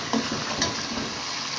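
Chicken frying in masala in a pan, a steady dense sizzle throughout with a few faint stirring clinks near the start, close and continuous without talk.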